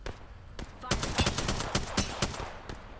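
Rampage LMG firing in the Apex Legends video game, a burst of rapid, loud, evenly spaced shots at close range, preceded by a few isolated shots.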